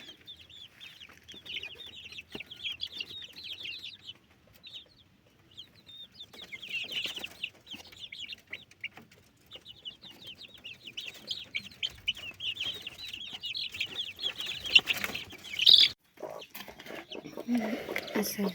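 Broody hen and her chicks clucking and peeping on a farm, with steady high chirps running through most of the stretch, at moderate volume and fairly close.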